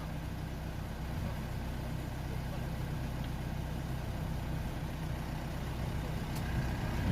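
A Renault Trafic van's diesel engine, fitted with a clogged particle filter, idles steadily after a restart, giving a low continuous rumble. Voices can be heard talking over the engine.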